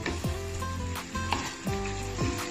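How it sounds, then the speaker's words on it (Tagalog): Pork being sautéed in a pan for dinuguan, crackling and sizzling steadily and close, with tonal swooping squeaks from stirring utensils scraping the pan. "isangkutsa lang po natin yung pork"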